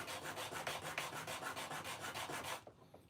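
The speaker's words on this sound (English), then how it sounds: "We need to sand it." Hand sanding a handmade piece, a steady back-and-forth rubbing in quick even strokes, close and continuous before stopping abruptly.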